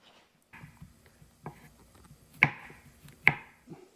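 Mushrooms being chopped by knife on a cutting board in a home kitchen, a series of irregular soft taps with a few sharper louder knocks, close and alone over a faint background hum.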